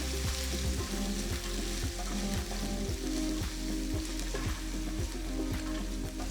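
Chopped green chillies sizzle and fry in hot oil for a Tamil chilli chapathi dish, a loud steady crackle with regular scraping stir strokes and no talking.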